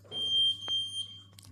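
An oven timer emits a single sharp, high electronic beep during the baking of a GTX 560 Ti graphics card, loud and close in an otherwise quiet room.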